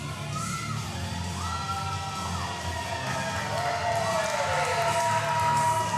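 Crowd cheering at an independent wrestling show, a steady roar of shouts, whoops and yells from many people in an indoor venue, moderately loud and sustained with no break.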